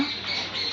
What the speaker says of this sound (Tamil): பஞ்சவர்ண கிளி மாதிரி இருக்கு.